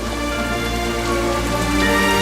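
Rain falling in a steady, even downpour that holds unbroken and fairly loud throughout, with no voices over it.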